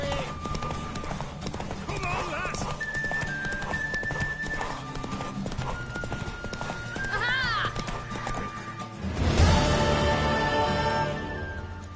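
Rhythmic hoofbeats of a galloping horse with a whinny in The Witcher 3: Wild Hunt, set against busy game music and voices shouting encouragement during a horse race.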